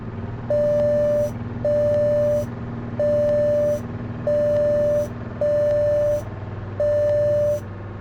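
A loud repeating aircraft cockpit takeoff warning alarm, six steady beeps about a second apart, sounding over a low engine rumble.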